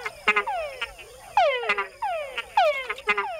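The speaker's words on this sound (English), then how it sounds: "Male frogs make the added chuck sound to attract females." Male frogs in Panama give repeated calls with added chuck notes, several loud, close frogs overlapping in a steady rhythm of descending whine-and-chuck phrases.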